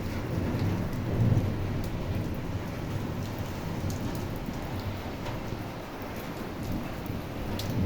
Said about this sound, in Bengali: দেখো ঝড় বৃষ্টি আজকে সকালে দেখছো ঝড় হচ্ছে বাইরেটা